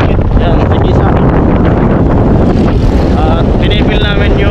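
Strong wind buffets the microphone outdoors in a loud, continuous roar, with a voice faintly audible beneath it.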